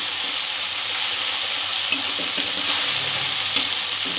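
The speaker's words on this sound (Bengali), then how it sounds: "পেঁয়াজটা একটু কিছুক্ষণ ভেজে নেব, যতক্ষণ না কাঁচা গন্ধটা চলে যায়।" Onion frying in a pan, a steady close sizzle with soft scraping of stirring and a few faint clinks, continuous and even throughout with no talking.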